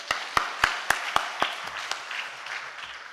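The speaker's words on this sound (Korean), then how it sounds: "우리 하나님 앞에 영광의 박수 올려드립니다" A church congregation claps together: six or seven sharp, evenly spaced claps, then looser scattered applause that fades.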